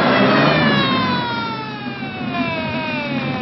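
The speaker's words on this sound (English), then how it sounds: "All right, Mr. Reese, I see the ambulance is coming." Wailing ambulance siren with a steady descending sweep, fairly loud and near with road noise beneath, no talking.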